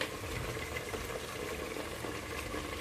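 Pav bhaji gravy with spices cooking in a pan, a steady low bubbling and simmering noise that continues evenly throughout at moderate volume.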